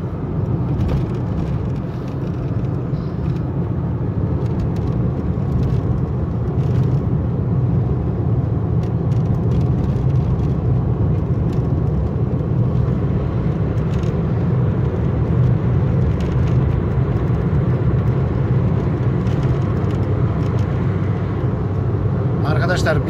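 An old car drives along a road on the way to a village, giving a steady low engine and road rumble throughout, with people talking over it.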